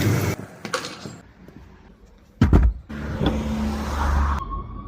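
A Mitsubishi car, heard up close: a door thuds shut, then an engine idles and revs with a low rumble and a whirring electric window motor, no talking.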